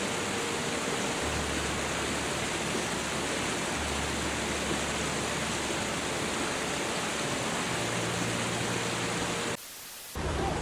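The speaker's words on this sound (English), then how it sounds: "The water's current on the main streets is among the highest ever recorded in Asia" Flood water rushes through the main streets of Zhuozhou in Hebei province, China, a loud, steady roar that continues without pause and cuts out briefly near the end.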